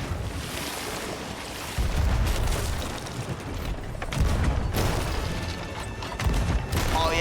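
Cannon fire from a pirate ship in the video game Sea of Thieves, heavy booms landing in succession over a steady wash of ocean waves, wind and creaking sailing ship ambience, with no talk.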